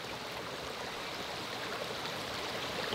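A mountain stream flowing along a border hiking trail, a steady, close rush and gurgle of water that holds evenly throughout, with no voices.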